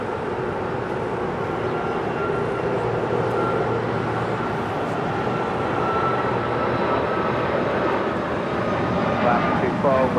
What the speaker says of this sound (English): That is American Airlines 335 departing to Phoenix, Arizona on a MAX 8.